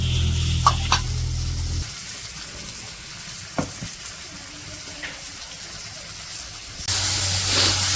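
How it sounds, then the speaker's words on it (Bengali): Eggplant pieces fry in hot oil in a wok, giving a steady hiss with a few brief stirring knocks; a heavier rumble sits under the sizzle at the start and again near the end. "বেগুন তো মাখানো হয়ে গেছে এখন যে কড়াইয়ে দিতেছে"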